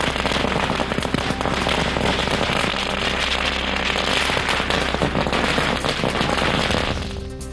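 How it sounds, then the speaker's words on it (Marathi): Firecrackers burst in a dense, continuous barrage of loud crackling pops at a celebration in Parbhani, Maharashtra. The volley stays sustained and near for most of the stretch, then eases off toward the end. "विद्यार्थी आणि पालकांनी फटाके फोडून आनंद व्यक्त केला."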